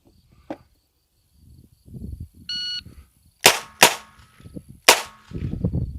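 A Kimber K6S revolver fires during a timed defensive drill: a shot-timer beep, then three sharp, loud gunshots, two close together and a third after a pause, with rustling and movement around them.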